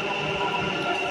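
A Bangalore metro train gives off a brief, steady mechanical hum with a faint high whine, even and moderately loud with no breaks.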